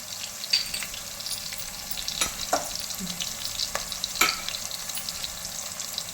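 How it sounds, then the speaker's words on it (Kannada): Ginger garlic paste fries in a pan while being stirred, a steady sizzle broken by a few sharp scrapes and taps of the spoon, close and alone without speech. "ಹಾಕ್ತೀನಿ ಸ್ವಲ್ಪ ಶುಂಠಿ ಬೆಳ್ಳುಳ್ಳಿ ಪೇಸ್ಟು ಸ್ವಲ್ಪ ಒಂದು ಸ್ಪೂನಷ್ಟು"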